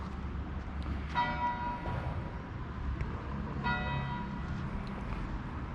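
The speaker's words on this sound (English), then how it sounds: "Church bell tolling down the end" A church bell tolls down a street in central Vilnius, two distinct struck rings with lingering harmonic hum, moderately distant over low steady city rumble.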